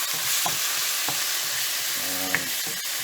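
Brinjal and prawn curry with chopped tomato fries in a pan with a loud, dense, continuous sizzle and a few sharp clicks of stirring. No one speaks.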